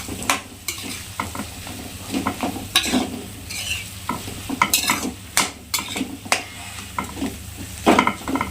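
Mashed potato being sautéed in oil for mini samosa filling, bursts of sizzling with repeated spatula scrapes and knocks against the pan in an uneven rhythm, all close and fairly loud.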